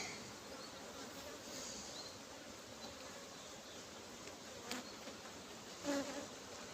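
Honeybees hum steadily around an opened beehive during a full brood box inspection, a constant close buzzing swarm drone with a few louder passes near the end.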